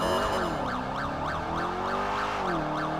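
A police car siren in GTA 5 with the LSPDFR mod wails in rising and falling cycles, steady and prominent over faint engine rumble, with no talking.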